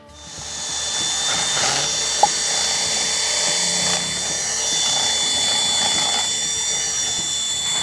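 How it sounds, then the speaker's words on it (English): A steady high-pitched drill whine runs continuously at close range as a deburring tool works a wheel, with a faint tool clatter beneath it and one brief click. "I have to sit here with one of these deburring tools and the drill"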